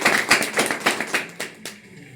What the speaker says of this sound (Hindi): तो मैं चाहूंगा कि आप लोग जो है ताली बजाकर इनका जो है उत्साहवर्धन करें।